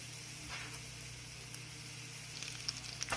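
Sliced garlic cloves fry in hot oil for a coriander-tomato chutney, a quiet, steady sizzle with occasional small pops and crackles near the end.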